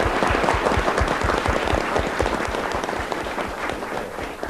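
Audience applause at a 1988 Icelandic televised quiz contest, a studio crowd clapping loudly and rhythmically in fast, even beats, the claps thinning slightly toward the end.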